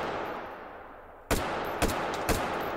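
M16 rifle fired in H3VR virtual-reality shooting: three single sharp shots spaced about half a second apart over a steady noisy background, with no talking.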